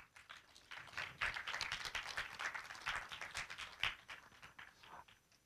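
A crowd applauding steadily at a university awards ceremony, dense overlapping claps filling the room for several seconds, fairly distant and even in loudness.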